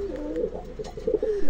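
Female pigeons kept for crossing with sport and working pigeons coo softly in a few low, throaty rolling calls close by, with faint loft background and no speech.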